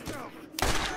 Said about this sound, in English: Wait till he stops firing his barrage of bullets.